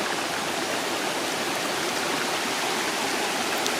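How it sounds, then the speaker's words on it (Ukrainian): Two small mountain streams meet near Lake Synevyr, giving a steady, close, full-bodied rush and babble of running water that holds constant throughout, with no voices. "Ось тут теж зливаються два маленькі струмочки."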